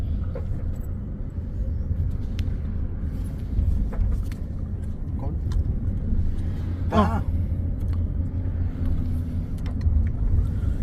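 A car being driven gives a steady low engine and road rumble throughout, with faint clicks and brief cabin sounds over the drone and no clear talk.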